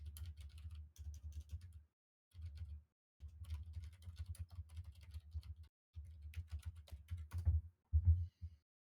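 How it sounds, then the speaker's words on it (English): Someone types on a computer keyboard in quick, steady bursts of key clicks, with short pauses between the runs. It sounds close and fairly soft, with no talking. "Serious typing noises."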